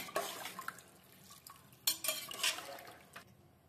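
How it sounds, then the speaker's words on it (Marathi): A spoon stirs masala rice in a pot, giving intermittent scraping and clinking strokes that are fairly faint and close, with no talking. "आणि पुन्हा एकदा छान हलवायचा"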